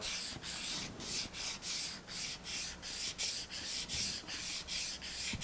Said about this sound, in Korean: 이 가죽의 단면 가장자리도 필수적으로 사포질을 잘 해주셔야 합니다